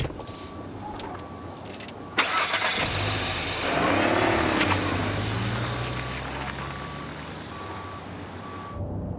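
A car drives past in a street scene, a broad engine roar building after a sharp thump and holding steady before fading, with faint intermittent beeping around it and no one speaking.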